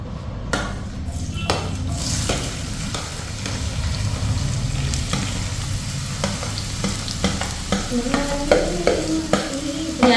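Food for a breakfast of dosa and chickpea curry sizzles steadily in hot oil, a dense continuous fry with scattered stirring taps and clinks of a pan building toward the end.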